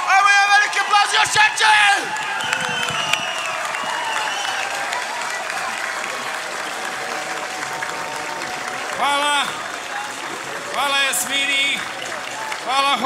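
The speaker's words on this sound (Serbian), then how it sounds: "Ajmo je veliki aplauz još jače!" A large outdoor concert crowd in a town square applauds loudly and steadily, with whoops and cheers rising above the clapping while a voice speaks over an amplified sound system.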